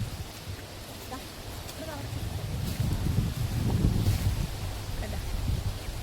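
Wind blowing through a mango orchard in Pollachi, a steady low buffeting rush on the microphone that swells in the middle and carries on under a voice talking.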